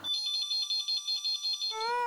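An electronic telephone ringtone pulses in quick repeated bursts, then shifts to a different warbling tone at the end.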